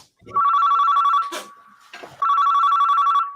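Telephone ringing in a staged phone-call scene, with two loud sustained electronic ring bursts separated by a short gap filled with brief noise and faint voice.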